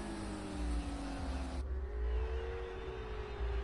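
A Lamborghini race car in a racing video game exits the pit lane, its engine a steady droning tone that drops in pitch partway through, with a faint whir underneath.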